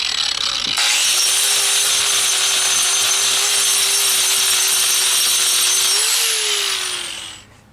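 A grinder runs loud and continuous against an old patch on a concrete foundation, starting abruptly, holding a steady high whine with a slight pitch rise near the end, then winding down; no talking.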